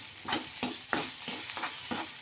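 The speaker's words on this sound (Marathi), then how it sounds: "थोडंसं डागून द्यायचं याला थोडंसं लालसरपणा येऊ द्यायचं आहे" Green chilies roast in a pan for thecha, stirred in quick repeated scraping strokes over a steady frying sizzle, close and moderately loud with nobody speaking.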